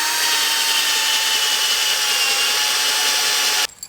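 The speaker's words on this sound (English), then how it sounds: "I'm gonna start here by drilling 4 pilot holes into this." A power drill runs steadily at high speed drilling pilot holes for lag bolts in an auto body cart, a loud continuous whine that cuts off abruptly near the end.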